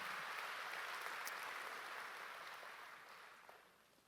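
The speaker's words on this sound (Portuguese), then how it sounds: "Quem pode dar um aplauso ao Senhor Jesus?" A church congregation gives a sustained round of applause during a service, a broad wash of clapping that fades gradually toward the end.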